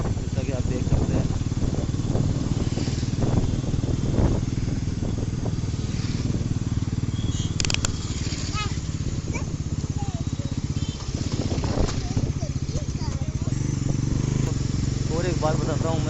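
A new Bajaj Pulsar NS400z motorcycle engine idles steadily after a cold start, a continuous close rumble running throughout while a person talks over it.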